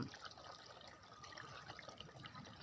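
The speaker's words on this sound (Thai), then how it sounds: "ก็เทน้ำทิ้งออกไปให้หมดนะครับ" Soaking water poured off papaya seeds, a faint steady splashing trickle of liquid lasting a few seconds with no talk over it.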